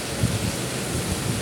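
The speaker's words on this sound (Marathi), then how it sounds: "तर पाऊस पण मस्त पडतो आहे बऱ्यापैकी" Monsoon rain falls steadily in the Konkan region as a dense, even rush of rain noise with some low rumble from wind on the microphone, heard alone and close.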